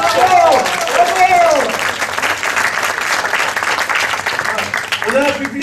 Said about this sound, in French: On applaudit la dame!